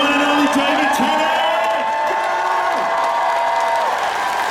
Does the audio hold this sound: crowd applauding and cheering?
yes